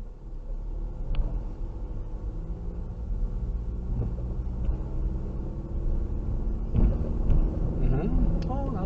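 A car engine revs during a first driving lesson, a steady low rumble that swells and eases as the throttle is worked, with brief voices over it.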